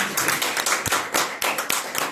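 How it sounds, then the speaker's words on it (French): Worshippers in a church clap together in a brief burst, a loose cluster of hand claps with a few sharper hits, close and moderately loud. "Est-ce que nous pouvons applaudir le Seigneur même sur Jésus?"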